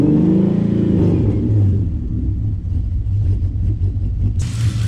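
Car engine fitted with an idle chop mod, revving loud and close with a deep uneven rumble that settles into a lumpy, choppy idle, alone with no talk.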